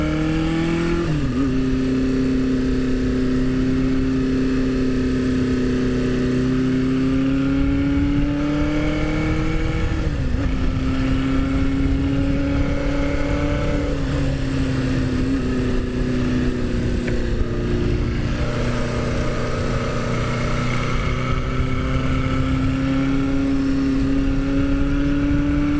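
Engine of a 1977 Honda CB550 motorcycle while riding, a loud continuous drone with smooth pitch rises and dips as the throttle changes, close and alone.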